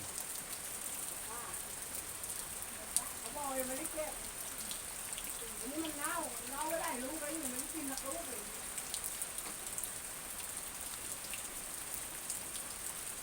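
Steady rain hisses throughout at Ban Thap Luang, Nakhon Pathom, Thailand, with voices talking faintly underneath for a few seconds partway through.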